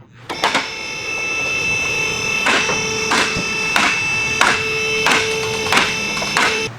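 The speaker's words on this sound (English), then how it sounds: "Lift the vehicle." A vehicle lift raises a 2015-2018 Ford Fusion in a workshop, its motor giving a loud, steady whine while sharp ratcheting clicks from the lift repeat at regular intervals, close by.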